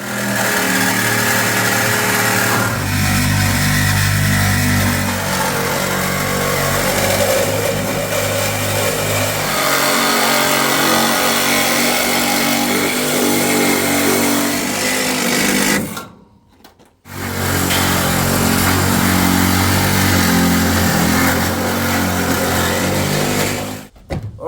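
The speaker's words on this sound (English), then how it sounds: "Just cutting through the middle of the welds." A power cutting tool slices through the body welds of a Mitsubishi Magna being built as a street stock car, a loud, steady grinding drone running nearly continuously with one brief cut-off partway through.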